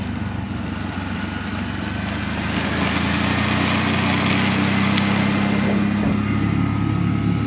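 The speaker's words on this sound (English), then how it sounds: "A bit of engine brake amongst that as well." A vehicle engine-brakes through hairpin bends on a winding mountain road in Chile: a loud, steady, low engine drone close by that swells slightly midway, with no talk over it.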